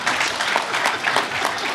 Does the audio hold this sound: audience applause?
yes